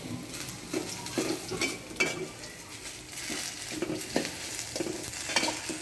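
Drumstick (moringa) leaves with fried onion and a pinch of salt being stir-fried in a pan, with close scraping and stirring strokes over a steady low sizzle and occasional utensil clinks.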